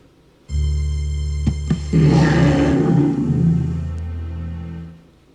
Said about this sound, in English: You hear a roar just behind you and turn in time to see a monster fall to the ground, slain by Shella's arrows.